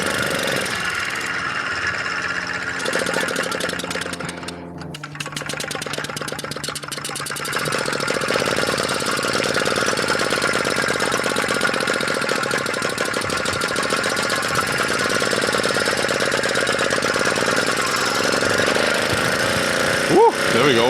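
A Solex 1400 moped's small engine running with the throttle opened, a loud, buzzing, rattly drone held close and steady for most of the stretch, with a brief dip early on and faint voices now and then.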